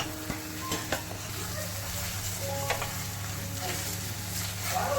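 A nut paste mixture is stirred in a frying pan on the stove, with a steady soft sizzle under scraping stirring strokes that continue throughout, close and moderately quiet, no talking.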